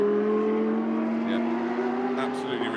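BMW Pro race car engine roaring at the 12 Hours of Sepang, a loud, steady high-pitched drone with rising harmonics as the car runs continuously, with faint commentary underneath.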